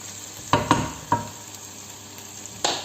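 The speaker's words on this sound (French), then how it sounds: "on mélange et je vais laisser tout ça bien cuire tranquillement un petit peu" Chicken and potatoes being stirred in a cooking pot: a few scraping knocks of a spoon against the pot over a soft, steady sizzle, close and moderately quiet.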